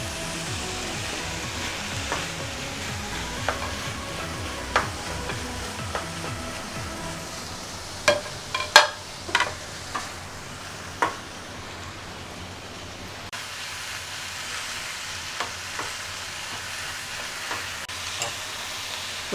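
Onion, green chili and capsicum fry in a pan for chilli chicken, giving a continuous sizzle. A spatula stirs them, producing irregular sharp scrapes and clacks against the pan, with no voices.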